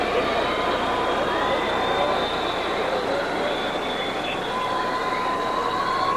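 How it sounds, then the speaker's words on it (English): A large arena crowd at the 1978 women's gymnastics world championships, a dense continuous roar of cheers mixed with whistles and catcalls, loud and sustained throughout with no gaps. "a very mixed reaction from the crowd. Some cheers and some whistles and catcalls."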